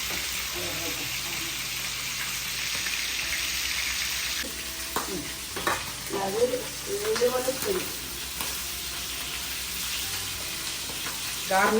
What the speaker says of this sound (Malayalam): ഇത്രയിട്ട് വേവിച്ചു അത് കഴിഞ്ഞിട്ട് വറക്കുന്നു.